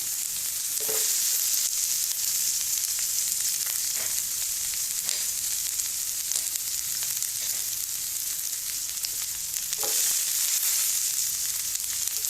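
Tofu and capsicum sizzle steadily in hot oil while being stir-fried for sweet and sour tofu, a continuous loud frying hiss with occasional scrapes and stirs, no talk.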